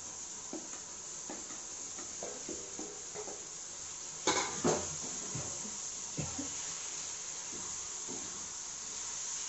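Peas and potatoes sauté in a pan with tomato, a soft continuous sizzle under scattered spatula scrapes and clinks, including a sharper pair of knocks midway, no talking.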